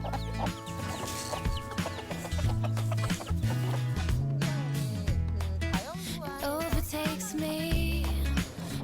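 A hen clucks repeatedly near at hand over steady background music, with scattered chicken sounds throughout.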